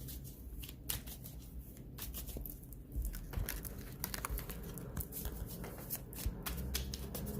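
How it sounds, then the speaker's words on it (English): Tarot cards shuffled by hand in quick, crisp riffles and flutters, close and fairly quiet, with repeated bursts over a soft steady background. "I will be shuffling here with intentions"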